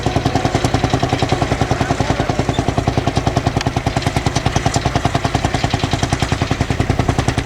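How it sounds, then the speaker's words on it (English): A vintage tractor engine at a rural rally pops in a steady, rapid rhythm, loud and close throughout, each exhaust beat sharp and evenly spaced with a rough clattering edge. "I love that tractor. The noise it makes is so unique"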